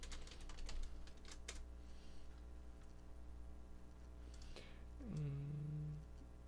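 Computer keyboard typing during a C# programming lesson, sparse soft keystrokes in a few short bursts over a faint steady electrical hum, quiet and close.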